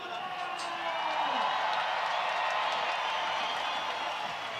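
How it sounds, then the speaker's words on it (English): Crowd at the Chamonix 2022 climbing lead finals reacting as Adam Ondra enters the stage, a broad, steady roar of cheering and applause that holds loud throughout, with a commentator talking over it. "there's a big reaction from the crowd because behind that curtain is Adam Ondra as he enters the Chamonix stage"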